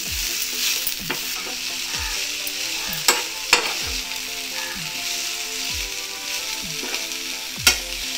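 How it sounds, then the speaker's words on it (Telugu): Mint leaves frying in a pan over a low flame, a close steady sizzle broken by repeated spatula scrapes and clacks at an uneven rhythm, with a few sharper knocks against the pan. "చిన్న ఫ్లేమ్ మీద ప్యాన్ పెట్టి కడిగి ఉంచుకున్న పుదీనాకును వేసి పచ్చివాసన పోయే వరకు ఫ్రై చేసుకుందాం."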